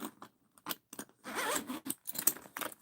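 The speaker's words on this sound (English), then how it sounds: "We have our recessed zipper." A recessed zipper on a Juicy Couture handbag with matte black hardware is pulled in several short, close zipping strokes separated by brief pauses, with one longer pull in the middle.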